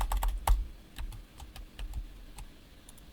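Fingers typing on a computer keyboard in a quiet room, a quick, irregular run of light clicky keystrokes close to the microphone, with no talking.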